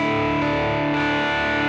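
A crunchy, distorted electric guitar amp tone from a Boss GX-100 rings out as one sustained, loud chord.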